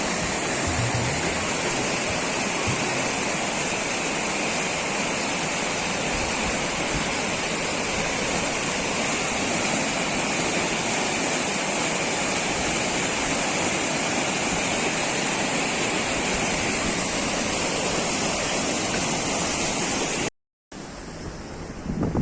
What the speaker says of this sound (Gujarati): આ પાણી આવે છે ભૂંગળામાં હમતું નથી